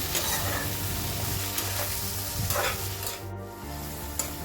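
Mustard leaves and fish intestines fry in oil in a wok, with a steady loud sizzle and repeated scraping stir strokes throughout, no voices.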